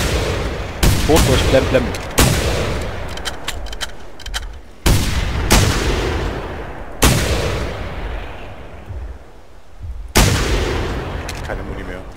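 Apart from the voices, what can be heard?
rifle shots in video game theHunter: Primal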